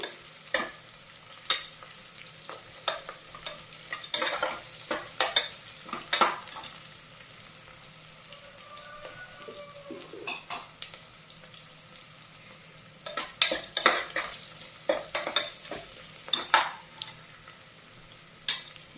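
Onions fry in a pan after garam masala for mushroom dum biryani, sizzling with repeated scraping and stirring strokes, moderately close, pausing briefly midway before the stirring picks up again.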